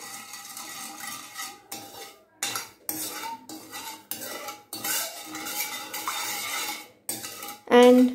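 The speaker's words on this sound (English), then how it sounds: "And keep stirring it continuously till you get one string consistency." A sugar mixture for badam burfi is stirred in a pan, with a utensil scraping and clinking against the metal in uneven bursts and short pauses, close and fairly loud, with no talking.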